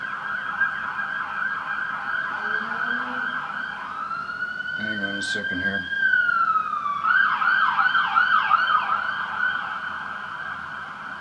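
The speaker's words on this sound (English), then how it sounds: "That's an ambulance going down to Toronto Western Hospital." An ambulance siren wails steadily on a Toronto street, shifting pattern as it passes nearby, while someone speaks briefly underneath.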